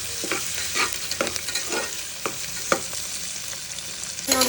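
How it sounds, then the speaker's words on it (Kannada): Sliced onion and green chilies frying in hot oil in a home kitchen pan, with a steady close sizzle broken by repeated scrapes and clinks of a stirring spoon. "ಈರುಳ್ಳಿ ಮೆಣಸಿನ್ಕಾಯಿ ಹಾಕಿ ಫ್ರೈ ಮಾಡ್ತಾ ಇದ್ದೀನಿ"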